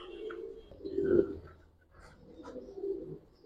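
Giribaz pigeons in a loft give soft, low cooing calls, a few murmured coos rising and fading close by in a quiet space.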